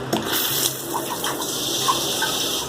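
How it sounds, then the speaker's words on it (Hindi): Water gushes steadily from a Muslim shower sprayer in a home bathroom after a DIY leak fix, a close, continuous hissing spray with no one talking. "चलिए यहाँ से निकालते हैं पानी।"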